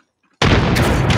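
Frag grenade going off in Apex Legends: after a near-silent moment, a sudden loud close blast erupts and roars on with crackling debris.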